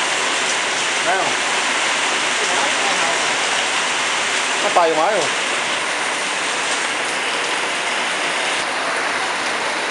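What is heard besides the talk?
heavy rain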